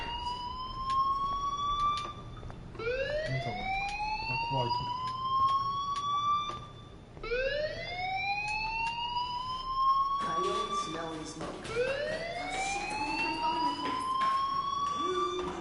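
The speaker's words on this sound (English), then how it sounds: "do you hear that fire alarm? That means you should be outside." Fire alarm siren in the video game Life is Strange, rising whoops repeating several times, loud and steady, with a voice talking faintly underneath.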